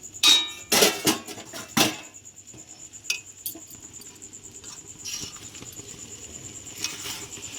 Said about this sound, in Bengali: তো ঢাকাটা খুলে দিচ্ছি আমরা